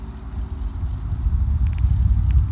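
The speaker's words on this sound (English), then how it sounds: "people are hearing the cicadas" Cicadas drone in a steady, high pulsing buzz near Kill Devil Hills, North Carolina, underlaid by loud low wind rumble, with a few faint clicks near the end.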